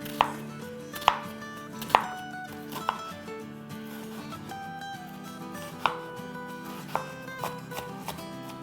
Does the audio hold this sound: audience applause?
no